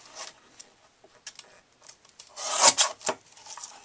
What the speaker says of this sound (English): all I'll have to do now is to trim that down